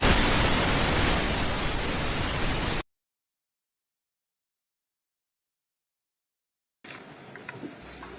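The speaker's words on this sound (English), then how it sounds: "Let's put the white noise on" Loud steady broadband hiss of white noise played in a courtroom setting, running alone for about three seconds, then cutting to silence before fainter room sound returns.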